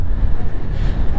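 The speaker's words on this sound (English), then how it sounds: "I don't know if you can tell how windy it is or if you can hear it" Strong wind buffets the microphone of a rider on a motorcycle in a loud, continuous low rumble that rises and falls in gusts.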